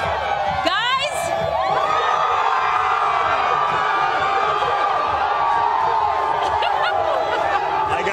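Loud, sustained crowd cheering and shouting at a school pep rally noise competition, a dense roar of many voices with whoops and screams continuing throughout.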